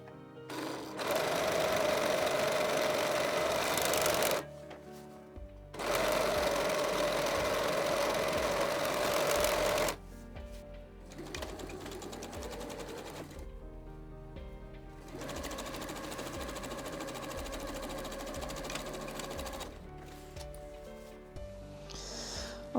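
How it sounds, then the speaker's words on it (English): Serger overlock machine running fast through fabric on facing pieces for a jumpsuit, with three loud sustained bursts separated by short pauses, then quieter intermittent running toward the end, no talking. "But first a little run at the serger here, and then I will sew these together and press them open."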